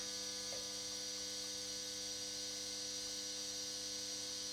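A constant electrical whine and hum from a Uralelektro EISA 105 voltage stabilizer drones without a break, steady and fairly faint, with no voices.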